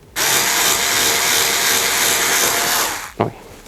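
An Intertool WT-0300 cordless tool cuts a denser material in one loud continuous grinding whir that stops abruptly near the end, followed by a brief clatter.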